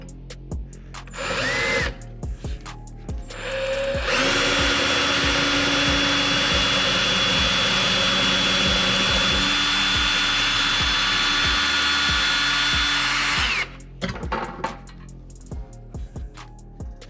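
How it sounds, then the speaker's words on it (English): A power drill bores a hole for a makeshift mount during RSX repairs, its steady loud whine running continuously for about nine seconds after a few short clicks and handling knocks, then cutting off, followed by more light tapping. "So now I can just come in here and drill us a hole."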